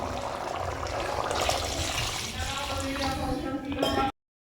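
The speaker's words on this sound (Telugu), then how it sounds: "మనం అయితే మళ్ళీ వాటర్ అయితే యాడ్ చేసుకుందాం" Water is poured into a cooking pot, a close, continuous splashing trickle with faint clinks against the pot, ending abruptly in silence.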